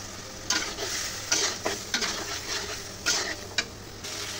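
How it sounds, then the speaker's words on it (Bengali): Fish is added to spiced oil and stirred in a pan on a home kitchen stove, a steady sizzle broken by several sharp scrapes and clinks of the spoon against the pan. "এখন মাছটা দিয়ে দিব।"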